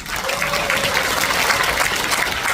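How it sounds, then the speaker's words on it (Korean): Audience applause at a national disability poetry recitation contest, held outdoors in the rain, a continuous wash of clapping that stays even and fairly loud throughout. "박수."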